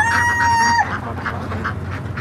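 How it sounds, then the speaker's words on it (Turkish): A rooster-like crow rings out at the start, then farm poultry calls and rustling follow at moderate loudness as guinea fowl are let out on a duck farm. "beçlerimizi dışarı salalım"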